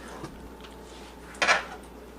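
Baking dish being set down and handled while filled with macaroni and cheese, a faint knock early on, then one sharp clatter of dishware against a counter in an otherwise quiet kitchen.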